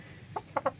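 A chicken, a prize-winning fowl soaked and muddied after a flood, gives three short soft clucks, faint and close, with no talking.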